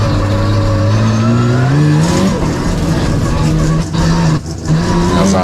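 A Mazda RX-7 sport sedan in the 4001 to 6000cc class screams up a hillclimb course, its rotary engine rising in pitch through the gears with brief drops on shifts, loud and close.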